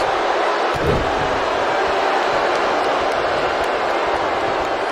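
A dense, roaring arena crowd in the WWE 2K19 wrestling video game, steady and loud throughout, with a faint thud near the start.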